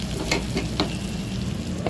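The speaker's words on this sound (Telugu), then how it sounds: "పచ్చిమిరకాయలు, ఉల్లిగడ్డ, కరివేపాకు, అల్లం ఎల్లిగడ్డ, పసుపు, ఉప్పు వేసుకోవాలండి బాగా." Green chillies, onion, curry leaves, ginger-garlic and turmeric frying in oil, a continuous close sizzle broken by a few quick stirring scrapes and clinks.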